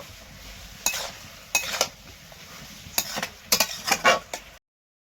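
A spoon stirs sugar into a pot of mixed vegetable curry, giving a series of close scraping strokes in irregular bursts over a low background hiss.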